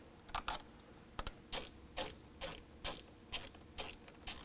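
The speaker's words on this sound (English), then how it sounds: "We can take that nut off using a 13 millimeter and fasten it back on." A ratchet wrench turns a 13 millimeter nut during a Retrax PowertraxONE MX tonneau cover install on a 2019 Chevy/GMC 1500, giving about eight faint, evenly spaced clicks close by.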